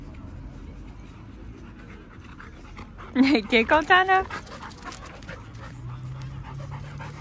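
Dog panting at a dog park in a short burst of quick, rhythmic breaths close by, with a few yips, over outdoor background noise and a person talking.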